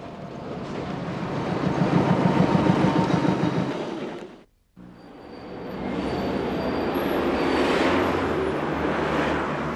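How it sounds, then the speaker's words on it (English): A Bournemouth MF2B trolleybus with booms at full stretch passing an obstruction near a reverser: a loud broadband rumble that swells and fades, cuts off briefly, then resumes as a steady drone, with no voices. "Booms are pushed to full stretch as this inbound MF2B passes an obstruction close to the Bodorgan Road reverser."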